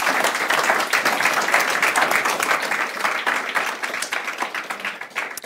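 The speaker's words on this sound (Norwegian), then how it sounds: "Applaus til Botil Nordsletten." Sustained audience applause at a climate-themed breakfast debate on food security, steady dense clapping for about five seconds that thins slightly toward the end, heard alone without talk.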